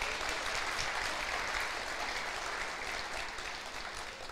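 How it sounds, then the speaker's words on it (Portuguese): Church congregation applauding during a sermon, a soft, even wash of many hands clapping at a distance, sustained throughout without voices on top. "Aplauda o Senhor por essa palavra."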